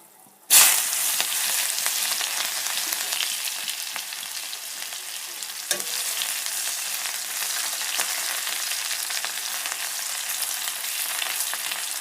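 Bay leaf, dried chilli and chopped onion hit hot oil with a sudden loud sizzle, then fry in a steady, dense crackle that holds for about twelve seconds, with a brief stir partway through and no talking.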